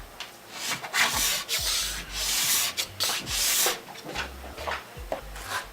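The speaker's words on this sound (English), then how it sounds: "you're going to want to scrape the P-Tex away from tip to tail" A plastic scraper held at an angle scrapes excess P-Tex from a ski base, tip to tail, in repeated close rasping strokes that come in uneven bursts with brief pauses between them.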